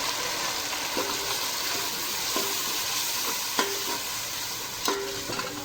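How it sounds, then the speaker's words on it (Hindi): Tomato, green chili and ginger-garlic paste frying in a pan, a steady sizzle broken by regular clinks and scrapes of a spoon stirring about every second. "हमने टमाटर और हरी मिर्च और लहसुन अदरक का पेस्ट एक में डाल के अब हम इसमें डाल रहे हैं, और इसको हम अच्छे तरीके से फ्राई करेंगे"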